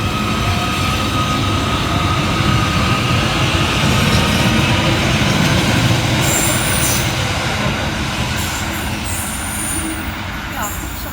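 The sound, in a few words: Merseyrail class 777 electric train departing station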